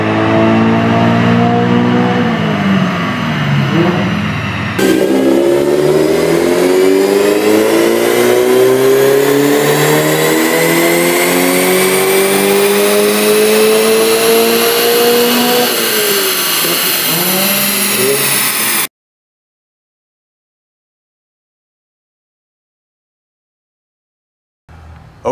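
A 2013 Scion FR-S fitted with an electric turbo revs loudly and up close, its engine pitch climbing in long sweeps before cutting off abruptly into silence.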